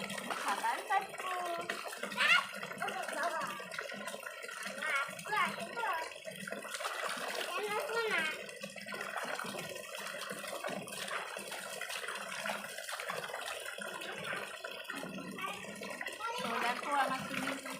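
Water splashes and sloshes in a homemade backyard swimming pool, running steadily beneath a voice that talks almost throughout.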